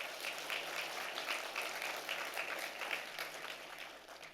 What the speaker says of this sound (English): Another round of applause for them.